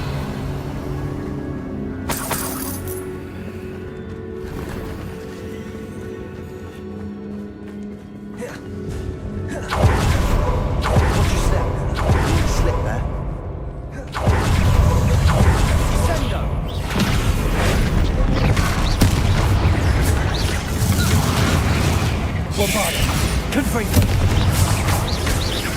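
Bombarda spell explosions in Hogwarts Legacy erupt as loud, heavy booms that give way to a sustained roaring rumble, layered over game sound and a voice.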